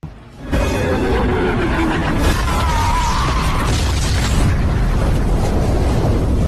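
A loud, sustained roaring bomb explosion dropped from a helicopter fills the whole clip, a dense rumbling boom with crackling debris that holds steady before cutting off abruptly.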